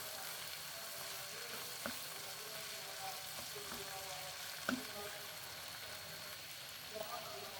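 Meat and sausages frying in oil in a home kitchen, giving a steady, even sizzle with a few sharp pops and crackles over it.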